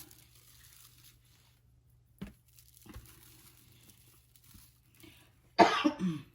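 A short cough, then after a few quiet seconds a louder burst of harsh coughing close by, with faint background hum between.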